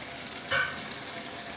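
A pot of vegetable kurma simmers at a boil, a faint, even bubbling hiss with one brief louder pop partway through, quiet and without voices.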